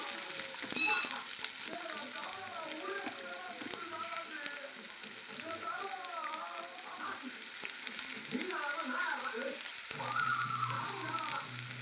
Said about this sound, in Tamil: இப்போ நம்ம வெங்காயத்தை போட்டுக்கலாம்